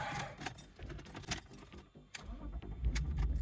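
A 1998 BMW E36 323ti hatchback starts up: keys rattle at first, then the engine cranks and settles into a low, close idle.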